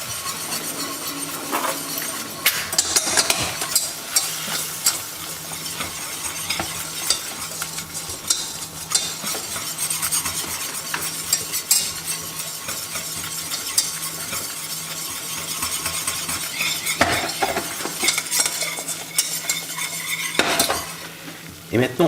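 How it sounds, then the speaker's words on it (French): A utensil stirs and scrapes through flour added to gently foaming melted butter in a pan, with soft sizzling beneath and repeated metallic clinks against the pan for a roux for Madeira sauce. "Une fois que le beurre a fondu et qu'il commence à mousser à peine, hop, je rajoute la farine."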